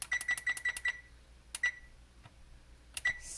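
A kitchen oven timer being set, giving a quick run of five or six sharp electronic beeps followed by two single beeps after short pauses, close and clear.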